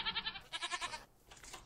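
A goat in the Minecraft video game bleats in quick, wavering pulses. Two short bursts come close together, then a fainter bleat follows, all near and clear.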